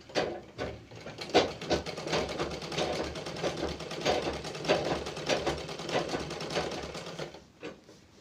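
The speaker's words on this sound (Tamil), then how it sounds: "இதே மாதிரி 4 பக்கம் வந்து என்ன பண்ணுங்க, தையல் போடுங்க." Sewing machine stitching seams around the four sides of a handkerchief during a beginner tailoring lesson, a steady rapid mechanical whir with short pauses, close and loud, with no voices.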